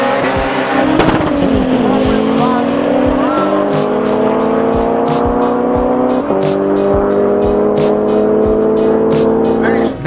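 A tuned Mitsubishi Evo on Toyo R888 tires races a Nissan GTR, engines roaring loud and close with rising revs, sharp gear-shift breaks and rapid rhythmic popping throughout, no talk.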